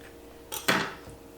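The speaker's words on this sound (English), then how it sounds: "I'm just gonna slice this open, and then we're gonna toast it" A knife cuts open a gluten-free, high-protein bagel in a kitchen: one brief scrape, then a louder crisp slice that fades quickly, close and without speech.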